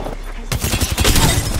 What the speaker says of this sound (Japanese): なんかすごい銃声してる